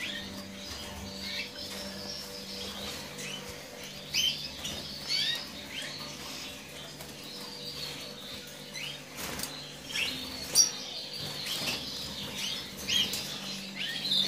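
Red mosaic canaries in an aviary during their moult, giving scattered faint chirps and tweets amid soft fluttering wings and light patter, distant and quiet throughout.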